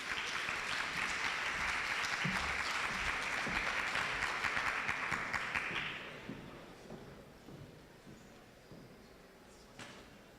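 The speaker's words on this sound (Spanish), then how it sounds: "Vamos a recibirlo con un fuerte aplauso." Conference audience gives strong applause welcoming a speaker, a full steady clapping that stops abruptly partway through, leaving a quieter room with a few faint knocks and shuffles.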